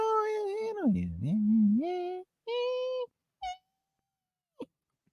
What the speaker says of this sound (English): I don't know why this cat is meowing.